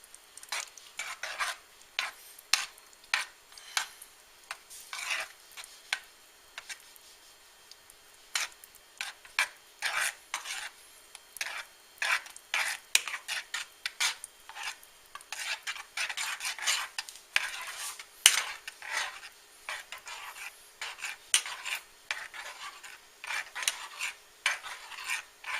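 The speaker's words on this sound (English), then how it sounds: "we're just going to stir this up until everything's melted up into a nice sauce" A spoon scrapes and stirs a thick cream cheese sauce in a pot for a broccoli rice casserole, giving steady irregular clinks and scrapes that continue throughout, close and moderately quiet, with no talking.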